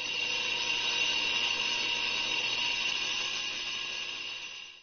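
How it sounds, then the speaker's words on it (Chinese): Steady close grinding on a blank being roughed out into the outline of an inside-painted snuff bottle, one continuous high whirring tone that holds even for about five seconds before easing slightly. "开坯打磨出坯体的雏形轮廓"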